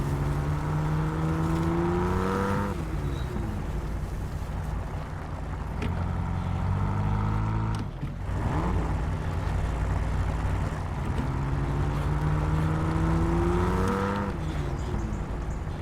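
Jeep Wrangler engine revving and accelerating in the off-road game Snowrunner, a loud, steady drone whose pitch climbs in repeated sweeps, with brief dips between gear pulls.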